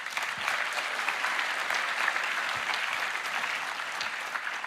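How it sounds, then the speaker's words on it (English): Steady audience applause fills a Roblox keynote hall, dense continuous clapping at an even level throughout, no talk over it. "I want to give a huge round of applause to these 2 games"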